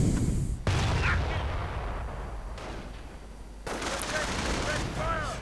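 Rapid rifle and machine-gun fire crackles in dense bursts as German grenadiers fight in a Company of Heroes 2 battle, loud and continuous with distant booms mixed in.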